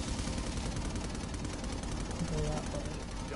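Video game auto turrets fire in a steady, dense rattle of rapid shots that runs throughout, with a voice briefly audible underneath.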